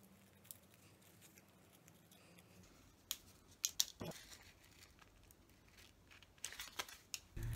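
Scissors cut hearts of different sizes from tissue paper, soft crinkling and irregular snips with a few sharper clicks, close and quiet, no speech.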